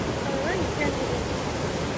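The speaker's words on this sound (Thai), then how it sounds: "ก็จะเป็นน้ำตกลงมาเรื่อยๆเนาะ" Waterfall at Chet Sao Noi National Park in Thailand: a steady, dense rush of falling water fills the whole stretch at an even, loud level, with no breaks.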